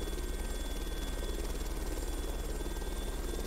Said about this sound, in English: Keep the turn going, little helicopter.